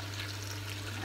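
Hot water is poured in a steady, continuous stream while a couscous with seven vegetables is being made, a soft rushing wash that lasts about a second with no other sounds.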